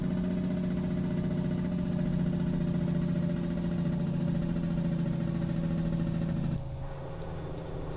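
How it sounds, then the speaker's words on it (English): A Kenworth T908 truck in American Truck Simulator drones with a heavy engine brake while descending. The sound is a loud, even, low mechanical roar that drops off abruptly near the end, with no talking. "we got to go heavy on the engine brake down here."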